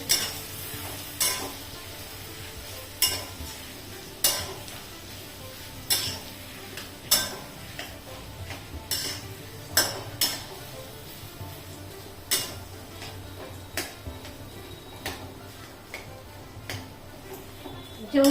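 Samosa potato filling being mixed and pressed by hand in a bowl, a close, steady run of soft squelching and clicking strokes at an irregular rhythm.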